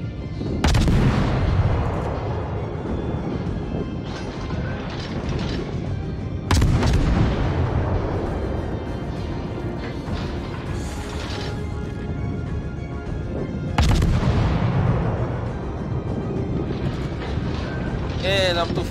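The guns of the French ship Bougainville fire in the naval game World of Warships: three heavy, widely spaced booms with long rumbling tails over a constant wash of wind and sea noise.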